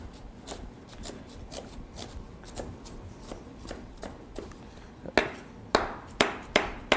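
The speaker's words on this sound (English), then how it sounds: "Turn them to the side and just dice it up." A knife chops ingredients for ceviche on a cutting board in steady, evenly spaced taps, gaining a few sharper, louder strikes toward the end.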